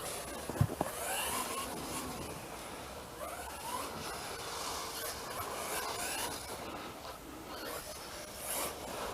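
Xray XB8e 2018 RC buggy running on a small outdoor track, a faint, fluctuating electric whine and rasping rolling noise heard at a distance, with a sharp knock near the start and no voices.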